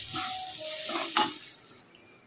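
Rice frying in a pan over a low gas flame gives a soft, steady sizzle with stirring scrapes and a brief clink midway. The sound drops away near the end.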